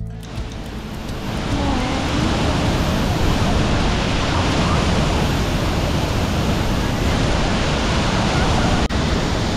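Steady, loud broadband rush of a waterfall at Cuetzalan, a dense continuous roar that swells in over the first two seconds and then holds evenly close by, with no voices.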